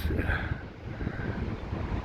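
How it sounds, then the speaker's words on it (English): Steady, strong wind on the Blackpool seafront buffeting the microphone with a constant low rumble and rushing hiss, no pauses, close and fairly loud. "It's still really windy."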